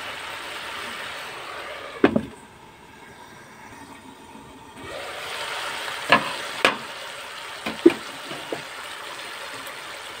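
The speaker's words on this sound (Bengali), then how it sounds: "এবার এই মশলাগুলো হলো কষিয়ে নিব।" A bay leaf and white cardamom pods fry in oil in a pan, giving a soft sizzle broken by a few sharp clicks and scrapes of stirring.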